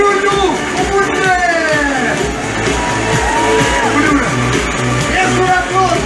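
Large outdoor concert crowd cheering, whooping and shouting continuously at a show in Sundsvall, a dense roar of many voices with applause mixed under amplified music.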